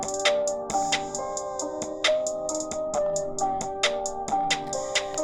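A melodic drum loop beat with sustained chords underneath, steady kick and hi-hat hits repeating over a tonal backing, loud and clear with no talking.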